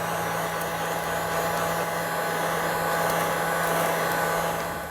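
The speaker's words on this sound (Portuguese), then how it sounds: "pega o secador, o soprador, pode secar tranquilamente" A hair dryer used as a blower to dry freshly applied sealer or paint runs steadily and loudly for the whole stretch, a constant whooshing airflow with a low motor hum and no talk.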